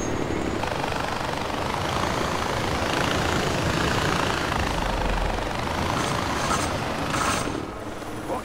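A helicopter flies in Far Cry 4, its rotor and engine making a steady, loud, close drone that fills the whole stretch and dips a little at the very end, with no talking.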